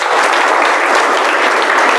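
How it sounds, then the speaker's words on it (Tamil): A big round of audience applause at a motivational speech honouring a student's top ranking, dense and continuous throughout the short stretch, with no voices over it. "நல்லா ஒரு பெரிய கைத்தட்டு"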